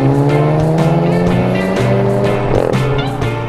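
An Audi TT TDI diesel drives hard, its engine note loud and close, rising and shifting through sustained harmonic tones with brief dips as gears change.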